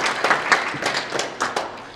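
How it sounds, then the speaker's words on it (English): Audience applause for a chief guest at an international TVET conference, a moderate patter of hand claps with distinct sharper claps standing out, fairly close and without talk. "A big round of applause for the chief guest."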